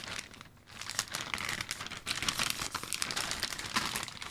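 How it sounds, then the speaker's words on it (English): A thin paper Amazon package being pulled apart by hand, giving steady close crinkling and soft tearing rustles that continue throughout with no talking. "I'm starting to pull it apart a little bit."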